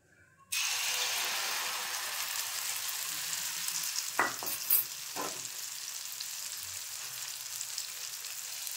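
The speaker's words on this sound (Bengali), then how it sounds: "তো ব্রেকফাস্টে এখন ভেজিটেবল অমলেট বানাবো।" A vegetable omelette of egg, tomato, capsicum, onion, coriander and chilli hits a hot pan with a sudden loud sizzle that keeps hissing steadily, broken by a couple of brief scraping clicks.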